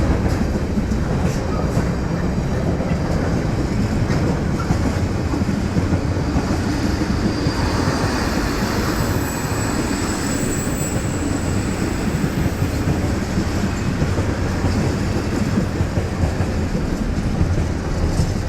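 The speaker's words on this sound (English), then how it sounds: "Right then, we've got another freight train." A freight train bound for the Southampton container terminal rolls past a level crossing, a loud continuous rumble and rattle of wagons holding steady throughout with a faint rhythmic clatter.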